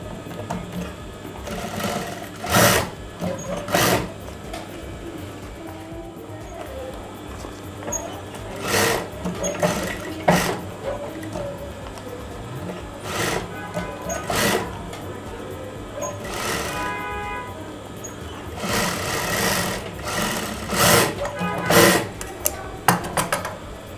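A sewing machine stitches a decorative neck design on a garment in several close, loud runs of rapid rattling, stopping and starting with quiet gaps between bursts.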